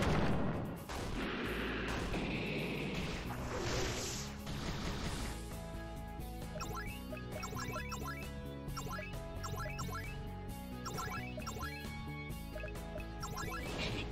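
A Fire Lance spell effect in a game fires off in a burst of booming, crashing blasts followed by a sustained run of rapid crackling impacts, dense and continuous with no talk.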